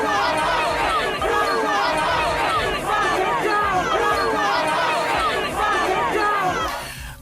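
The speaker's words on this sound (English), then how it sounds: "It is a crowd in the cold," A large crowd gathered at a far-right rally in London, a dense chattering mass of many voices with shouts rising throughout, steady and loud for several seconds before easing slightly at the end.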